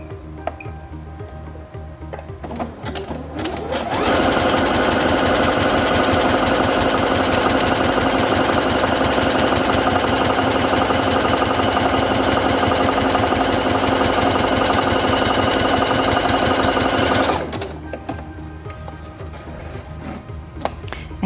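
A Singer Featherweight C240 sewing machine runs steadily for about thirteen seconds, stitching with a short stitch length in a rapid, even mechanical chatter that rises abruptly from quiet and stops just as sharply.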